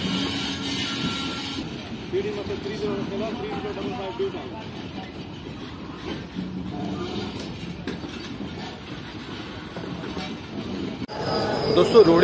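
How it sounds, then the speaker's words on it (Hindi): A Pakistan Railways locomotive rumbles steadily nearby with rolling rail noise and occasional clanks, and a voice talks faintly over the din. "पाकिस्तान रेलवेज का एक बेहतरीन लोकोमोटिव"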